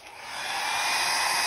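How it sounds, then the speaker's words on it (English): A hair dryer drying gold leaf adhesive whirs up and blows with a steady, high-pitched airy hum, close by and rising slightly in loudness. "I'm very impatient, so I get a hair dryer"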